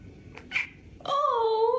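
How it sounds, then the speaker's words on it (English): A single rising cat meow, close and moderately loud, arriving after a couple of soft brief noises and holding for most of a second. "Meow if you're pretty."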